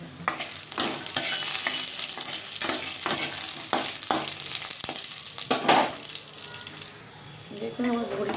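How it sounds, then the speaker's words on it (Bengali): Bori lentil dumplings frying in a pan, with a constant close sizzle of hot oil broken by repeated scraping stirs, and a person talking now and then. "বড়িটাকে আমি ভেজে নেব"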